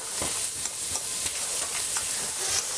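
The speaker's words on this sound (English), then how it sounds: "And this is all going to be mixed together." A ricotta filling being mixed with egg in a bowl, producing a quick, rhythmic series of soft wet stirring strokes, close and fairly loud, with no talk.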